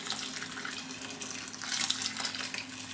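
Warm water poured to soak dried tofu skin, with a pinch of salt, for a Hong Kong-style beef dish in a home kitchen; a steady, close rushing stream runs throughout with no talking.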